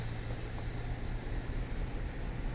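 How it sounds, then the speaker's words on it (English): Diesel train locomotive in Train Simulator 2021, North East England route, revving under light power: a steady, loud low engine drone with broad rumbling noise throughout, no one speaking. "Apply a little bit of power, just get the revs going."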